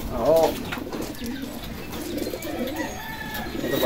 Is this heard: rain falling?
no